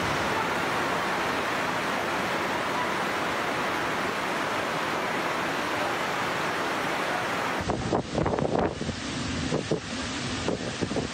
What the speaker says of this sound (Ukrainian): шквальний вітер валив дерева та світлофори